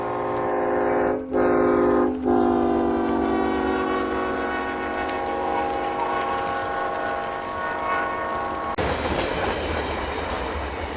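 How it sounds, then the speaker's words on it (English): A metal detection train pulls out of Beverly, its steady low rumble and rolling wheel noise sustained throughout, loud and close, shifting to broader rushing noise near the end. "Right after that metal detection train left"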